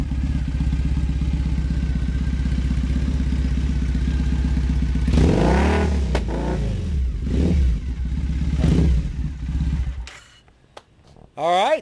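Triumph Bonneville motorcycle engine idling with a loud, lumpy throb, then blipped through several sharp revs that rise and fall, dropping away near the end before a final short rip; people talk over it.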